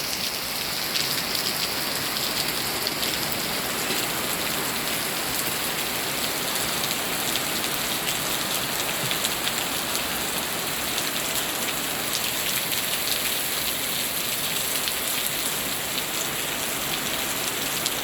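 Steady, dense rain falls continuously with an even hiss of drops on surfaces, unbroken and moderately loud throughout with no voices.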